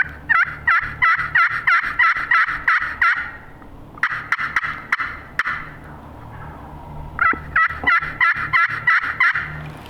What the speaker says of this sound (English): There's two of them gobbling.